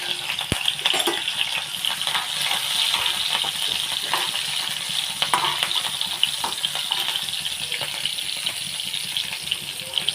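Garlic and green chilies sizzling in hot oil in a pan, a continuous close crackling hiss throughout with no talk.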